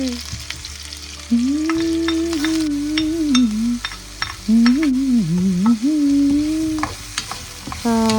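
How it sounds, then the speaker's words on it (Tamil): Onion and curry leaves fry in coconut oil with mustard seeds for a tempered knol khol leaf dish, a steady close sizzle with stirring scrapes running beneath a loud melodic singing voice. "வெங்காயம் கறிவேப்பில் ரம்பெல்லாம் போட்டு வதக்குறோம்"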